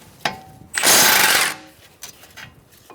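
A power tool with an 18mm socket spins out the caliper bracket bolts on a 2013-2022 Buick Encore front brake, one loud half-second burst of rattling whir between faint clicks and shop noise.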